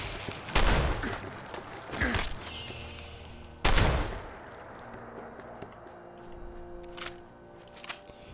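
Gunfire in Fallout 4 on Xbox Series X: a handful of loud, sharp shots at irregular intervals, with two heavy blasts early and lighter cracks later, over steady game ambience and soft musical tones.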